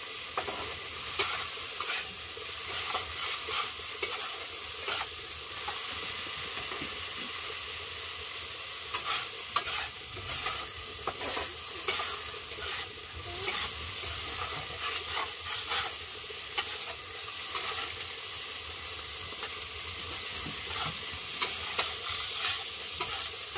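Cumin paste and spices fry in a pan for a potato and hilsa fish dish, sizzling steadily while a utensil scrapes and stirs in repeated strokes.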